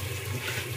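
Water is poured steadily into a pot of mutton curry being cooked at home, a continuous close rushing splash with no talk over it.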